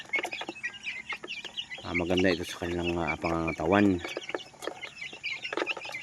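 Chickens cluck and chatter nearby while someone speaks over them in a steady, conversational voice.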